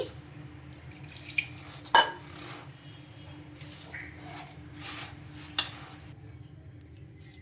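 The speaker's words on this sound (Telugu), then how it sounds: "ఇందులో ఇప్పుడు కొద్ది కొద్దిగా వాటర్ అయితే వేసేసుకుంటూ కలిపేసుకోవాలి" Water trickling into a bowl of sago and bottle gourd batter, heard as soft intermittent splashes and drips with occasional clinks of glass or a spoon in a quiet kitchen.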